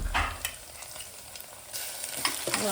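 Onion sizzling with garlic-chili paste in a pan for sambar, a soft steady fry with light stirring scrapes, faint and close, no talk.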